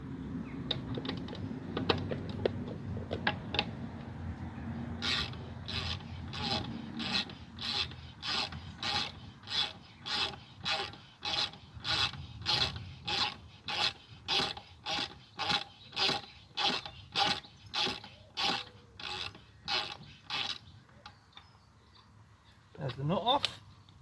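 A wrench ratchets a nut off a single roughly 14 mm bolt on a QT50 moped, fast, even clicking strokes in a long close run with brief pauses, a voice speaking over the start.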